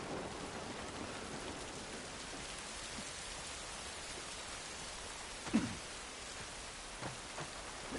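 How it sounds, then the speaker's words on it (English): Steady rain falls in The Last of Us Part 1 video game, a dense continuous hiss of drops with a few slightly louder splashes, heard alone. "This rain ain't gonna do us any good."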